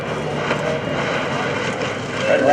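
Grumman F4F Wildcat propeller fighter landing at an airshow, its engine a steady broadband drone heard from a distance, holding level and swelling slightly toward the end.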